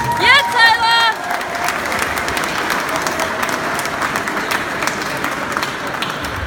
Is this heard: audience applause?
yes